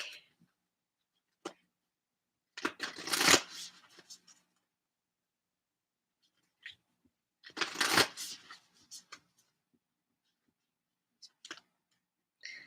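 A Moonology tarot card deck being shuffled by hand in two distinct bursts of riffling, close and crisp, each lasting about a second, separated by quiet gaps with a few soft card taps and clicks.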